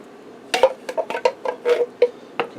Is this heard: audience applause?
no